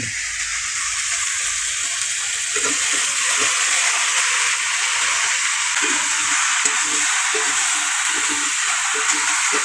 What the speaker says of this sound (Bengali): এবার দিয়ে দেবো কষে রাখা আলু এবং মিষ্টি কুমড়ো